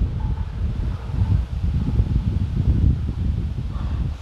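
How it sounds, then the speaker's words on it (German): Steady wind blowing outdoors during a moderate storm from ex-hurricane Kirk in Saxony, a continuous low rumbling buffet on the microphone that swells and eases slightly throughout. "Das ist der Wind hier ist völlig, der ist völlig harmlos, das ist nichts."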